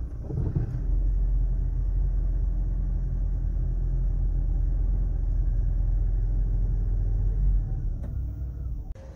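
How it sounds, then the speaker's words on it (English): A 2010 Toyota Prius with a P0401 fault code starts cold and settles into a low, steady rumbling idle, with a deep hum throughout and a faint click near the end. "let's turn on my Prius as a cold start and see what happens"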